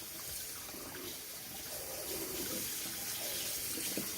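Sea moss rinsed under a running tap into a sink, a steady hiss of flowing water with faint splashing and shifting as it is handled, no voices.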